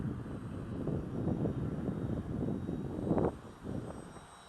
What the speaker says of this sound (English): Yeah, this is a fun plane to fly.